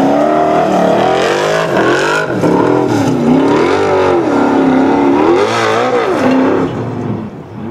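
A formula off-road car revs hard while climbing a steep sand hill at a competition, its engine pitch rising and falling in loud sustained surges that dip near the end.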